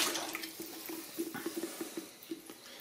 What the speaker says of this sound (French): Donc là, je rince bien mon pichet.